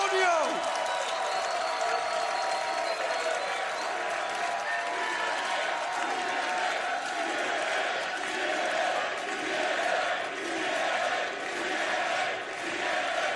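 A sold-out wrestling crowd in a San Antonio arena roars and cheers, a broad sustained wash of voices and clapping with a voice speaking over it.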